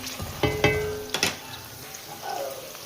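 Onions fry in a pan with a soft sizzle, broken by a few sharp clinks and scrapes of stirring. A steady hiss of oil runs underneath, and no one speaks.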